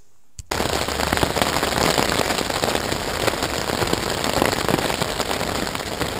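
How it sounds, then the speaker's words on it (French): Heavy thunderstorm rain hammers steadily on a tent in a dense, crackling roar, beginning abruptly after a brief quiet moment and continuing without pause. "C'est le son de l'orage."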